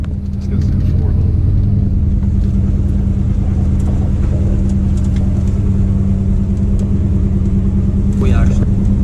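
Square body Chevrolet Suburban in four-wheel-drive low range crawling off-road, its engine a steady, loud low rumble throughout with speech over it.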